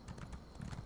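Faint hoofbeats from a horse in the video game Elder Scrolls Online, a quick uneven clip-clop trotting rhythm heard low and brief.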